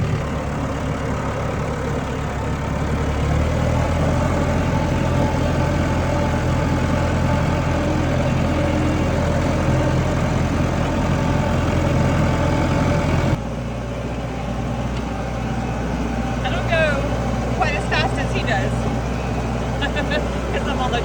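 A tractor engine runs steadily nearby, a continuous low rumbling drone whose pitch shifts partway through, while faint outdoor chirps sound in the background and no one talks.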